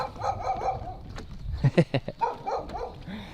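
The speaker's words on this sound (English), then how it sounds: "There's a dog. He's barking." A dog on a trimaran in the Philippines barks several times in a quick cluster, moderately distant, over outdoor background noise and faint voices.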